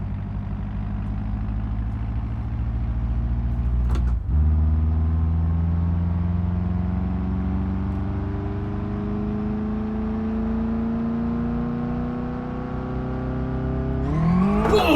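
A car engine in BeamNG revs steadily upward through a long pull in fifth gear on a dyno with nitrous, its droning harmonics climbing for seconds after a brief gear-change dip, loud and continuous with no talking.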